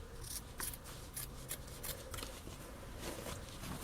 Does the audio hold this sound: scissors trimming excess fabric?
yes